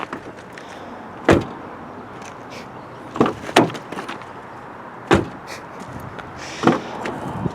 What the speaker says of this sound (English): Alright, I'm done playing with the door.